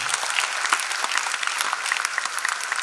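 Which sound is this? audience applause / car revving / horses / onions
audience applause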